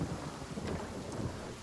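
Rain pouring with low rumbling thunder, summoned by a rain scroll in the fantasy role-playing game Divinity: Original Sin; a steady, dense wash of game-world rainfall with deep rolling rumbles throughout, no voices.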